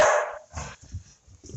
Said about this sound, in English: the dog's got to start barking behind me